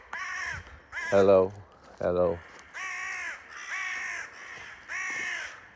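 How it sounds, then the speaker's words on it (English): A crow caws loudly and close by, giving a series of about six harsh caws in an irregular rhythm, the two in the middle louder and lower than the rest. "hello crow, hello."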